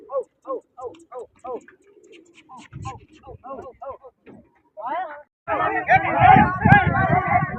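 Pigeons coo in a run of short repeated calls in competition pigeon flying, spaced and fairly close, before a sudden loud burst of mixed crowd noise and fluttering takes over.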